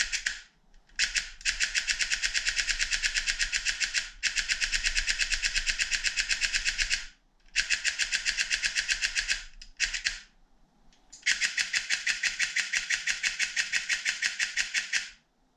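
Airsoft gun on a XORTECH MOSFET with a full tuning setup firing rapid full-auto bursts, loud close mechanical rattles in four long strings separated by short pauses.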